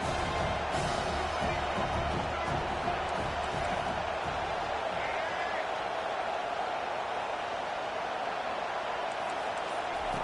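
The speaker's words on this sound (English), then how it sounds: "this crowd is turning it up a notch" Stadium crowd at a South Carolina college football game roars as a steady, loud wash of noise, with a faint commentator voice beneath it.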